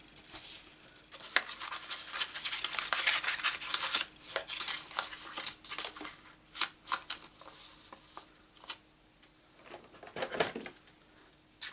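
Scissors snip repeatedly through paper die-cut shapes at close range, short irregular cuts with rustling of paper between them, quiet and without talking.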